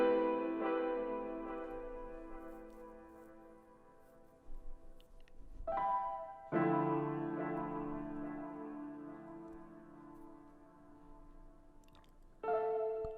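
Lightly strummed piano with effects adds accent keys to a trap soul beat, playing sustained reverberant chords that fade and then restart twice, close and alone without any voices.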